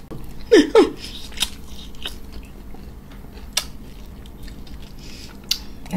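Someone eats pickled mackerel and smoked fish with fresh cucumber and onion, with two crisp close bites at the start followed by softer, scattered chewing and small crunches.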